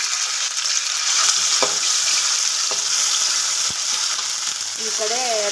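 Green chillies and crushed garlic sizzle in hot oil, a loud, steady frying hiss close by, broken by a few soft clicks of a spoon and a brief murmur near the end.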